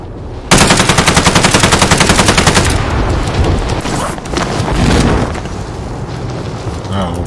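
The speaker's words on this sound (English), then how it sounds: "Somebody just winged a shot at me." Gunfire in the video game Call of Duty: Warzone, a long loud burst of rapid automatic fire followed by scattered shots and booming impacts, with speech heard underneath.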